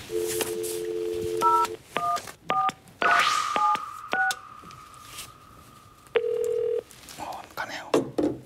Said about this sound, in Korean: 제가 한번 전화를 걸어보겠습니다